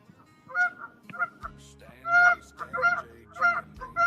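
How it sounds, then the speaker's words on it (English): A goose honks repeatedly outdoors, giving loud, nasal calls in irregular bursts that sound fairly close, with no talking over them. "Did he hook that goose?"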